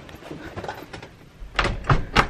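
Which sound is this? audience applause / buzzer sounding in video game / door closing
door closing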